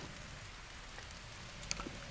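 Rain in the video game Breath of the Wild, a soft, steady hiss of falling drops that stays faint and even throughout, with one small tick near the end and no talking.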